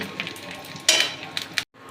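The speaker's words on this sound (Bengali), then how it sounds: "কারি পাতাটা দিয়ে একটু নাড়াচাড়া করে নিয়ে" Onions and curry leaves frying in a pan for Mangalorean chicken ghee roast, stirred with a utensil: soft sizzle under a few sharp scraping, clinking strokes, close by, ending abruptly.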